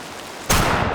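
Rain in a deer-hunting video game starts abruptly, a loud broadband hiss and patter that switches on and stays steady, with no voices.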